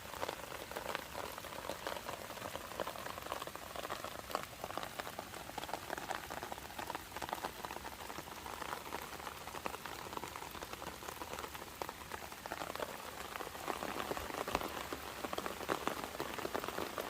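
Steady rain falls on potted lotus rock plants at a weekend farm during a multi-day monsoon downpour, a dense continuous patter of drops on leaves and pots that stays even throughout with no voices.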